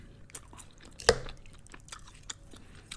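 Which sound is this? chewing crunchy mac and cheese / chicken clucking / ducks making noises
chewing crunchy mac and cheese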